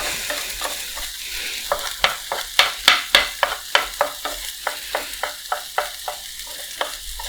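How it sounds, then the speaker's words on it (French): A potato omelette stirred in a hot frying pan after the gas is turned off: a steady series of sharp scraping strokes about twice a second over a light sizzle, close and clear, with no talking. "Ça continue un peu de chauffer dans la poêle. On continue de bien remuer."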